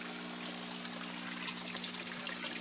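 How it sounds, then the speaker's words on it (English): Air stones in an aquaponics tank send up a constant, soft, hissing fizz of bubbling water, faint and unbroken with a low steady hum beneath. "you can actually see the water bubbling right there in the corners"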